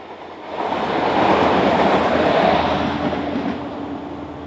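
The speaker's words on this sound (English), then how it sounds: "we see this Class ALN 501 working train R4820 from Novara to Biella" A Class ALN 501 railcar working train R4820 from Novara to Biella rumbles past on the line northwest of the city, swelling to a loud, steady roar and then easing slightly as it goes by.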